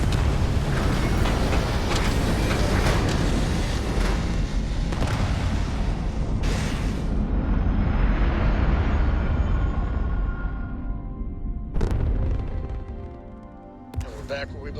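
A spaceship lifting off in Starfield, a loud, sustained engine roar that fills the scene for about twelve seconds before thinning out, with brief heavy bursts near the end.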